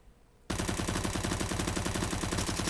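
Sustained automatic rifle spray in CS:GO, a rapid unbroken stream of loud gunshots that bursts in after a short quiet moment and continues to the end.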